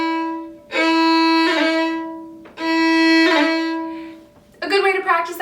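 A fiddle plays long bowed notes from the Irish reel The Silver Spire, each one ending in a quick ornamental roll, then breaks into a brisker phrase. The tone is close, loud and bright.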